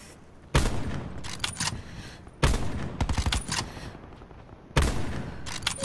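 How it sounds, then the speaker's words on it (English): Three loud bursts of rapid gunfire from the Black Ops 4 Blackout battle royale video game, each a sharp onset followed by a rattling volley and decaying echo, spaced about two seconds apart with no talk. "Who's shooting down here?"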